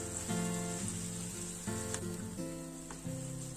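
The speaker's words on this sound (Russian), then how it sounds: "Обжариваем до готовности и лук, и грибы." Onion and mushrooms frying in a pan give off a steady soft sizzle, with faint music playing over it throughout.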